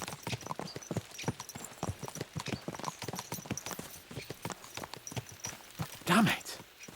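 Horse hooves clip-clop steadily in a fast rhythm in Kingdom Come Deliverance 2, quiet and continuous, with a short whinny near the end.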